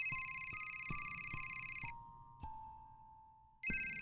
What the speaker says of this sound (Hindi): अरे रात के 2 बजे कौन गधा फोन कर रहा है?